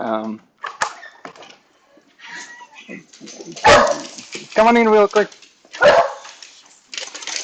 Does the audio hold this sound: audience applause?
no